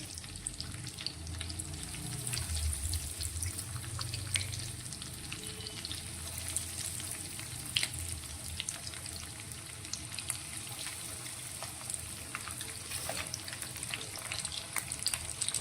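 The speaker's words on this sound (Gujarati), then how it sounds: "ગેસની ફ્લેમ મીડિયમ રાખી અને આપણે નાસ્તાને ફ્રાય કરીશું" A potato and poha snack fries in hot oil over a medium gas flame with a steady, fairly quiet sizzle and scattered crackles, continuous throughout with no talking.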